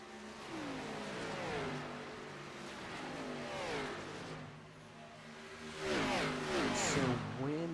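Xfinity Series race car engines at Auto Club, revving and shifting as cars slow onto pit road, mid-pitched motors rising and falling in repeated sweeps with a louder surge near the end, no talk.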